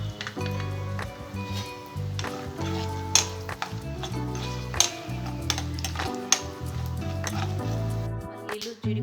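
Dried red chillies, peanuts and cashew nuts frying in oil for a curry leaf and okra fry, a steady close crackle with scattered sharp pops and some clatter of the pan throughout.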